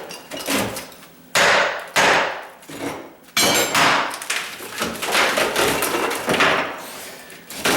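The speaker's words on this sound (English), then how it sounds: "is pulling the concrete up on this particular piece. Right to the plywood." Old concrete is pried up from a kitchen tile countertop down to the plywood, with loud cracking thuds and clattering chunks in irregular bursts, each followed by scraping debris, close and without talk.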